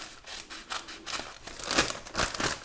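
Scissors cut through a sheet of parchment paper with a series of short, crisp snips and crinkles close by.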